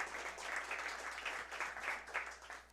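Applause from a crowd, steady clapping that swells and fades slightly over a few seconds, moderately distant.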